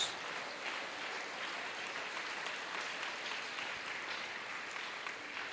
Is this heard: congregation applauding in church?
yes